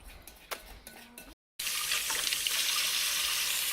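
Kitchen tap running over wet hands at a sink while making chocolate brownies, a few small clinks and splashes, then a brief gap before a steady close rush of water.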